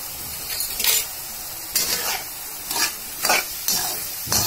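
A spoon stirs plantain with chili powder, turmeric and salt in a frying pan, making close, rhythmic scraping strokes about once a second over a soft, steady sizzle.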